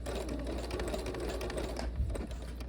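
A sewing machine stitching rings onto the bottom row of a knife-pleat Roman shade, a close, fast, steady mechanical whirring with a low motor hum throughout.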